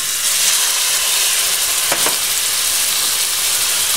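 Finely chopped celery sizzles steadily in hot oil in a pan while a tomato sauce for linguini is started, a loud continuous frying hiss with a brief crackling burst near the middle.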